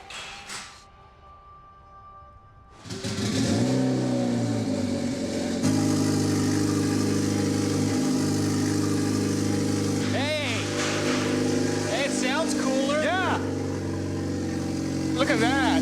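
A turbocharged hybrid car engine cranks and catches on its first startup, then settles into a steady, loud idle with occasional whines and squeals rising over the drone.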